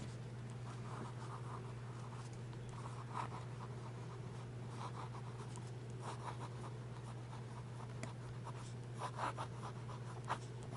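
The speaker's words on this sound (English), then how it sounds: "let's do a little bit of writing and see how this pen flows" A Jinhao 992 fountain pen writing on paper: a soft, continuous scratching of nib on page with small strokes and taps, quiet and close over a low steady hum.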